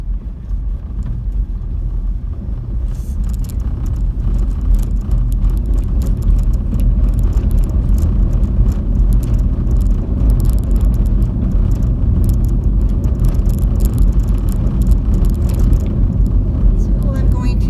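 A vehicle drives steadily along Imperial Dam Road in the desert near Senator Wash, a loud continuous engine and road rumble with tire noise throughout and no pauses.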